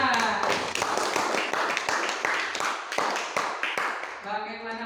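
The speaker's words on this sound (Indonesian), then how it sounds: "tepuk tangan untuk kelompok 2" Students in a classroom clap for a group after a poetry reading, crisp individual claps in an uneven rhythm, with a voice starting to speak as the clapping ends.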